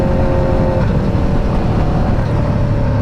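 An Aprilia RSV4 sport motorcycle pulling hard in third gear, a loud, close, continuous engine drone with rushing wind that holds steady for the whole stretch.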